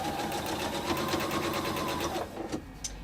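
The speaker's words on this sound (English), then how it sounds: "what I'm going to do is sew this and nestle those seams" Sewing machine stitching a quarter-inch seam through quilting fabric, a rapid even mechanical whir with rhythmic needle clicks for about two seconds, then stopping with a few handling taps.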